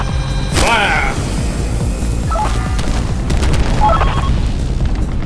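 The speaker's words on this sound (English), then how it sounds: "Preparing to fire the main cannon." The main cannon fires in the video game Gearbits, one heavy boom followed by rumbling blasts and scattered smaller bursts. Brief synthetic tones sit over the continuous loud low rumble.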